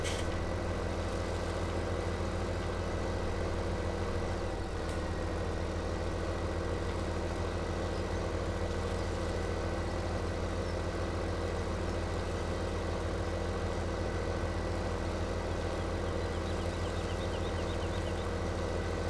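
A tractor engine idles in Farming Simulator 17, a steady low droning hum that holds at an even level throughout with no speech over it.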